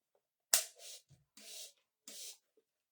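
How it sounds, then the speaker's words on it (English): Short bursts of mica spray from an aerosol can while making a unicorn suncatcher, three or four separate hissing puffs a fraction of a second each, close and fairly quiet with silence between. "I'm going to spray the mica."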